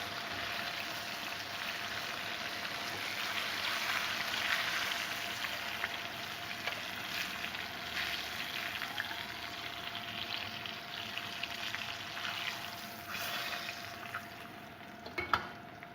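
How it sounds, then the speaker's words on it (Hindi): Chicken breast pieces frying in hot oil give a steady, close sizzle that holds for the whole stretch, with faint bubbling and a few small clinks near the end. "इसी तरह से जो बाकी भी है उसे भी हम फ्राई कर लेते हैं।"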